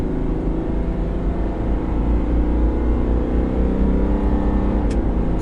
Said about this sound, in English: Oh, the diesel laid down some rubber there.